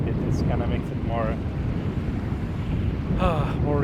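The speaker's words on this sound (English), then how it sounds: "It's kind of windy, it's kind of chilly" Wind blowing outdoors on a chilly day, a steady broadband rumble and buffeting across the mic throughout, with brief voice-like fragments surfacing near the start and end.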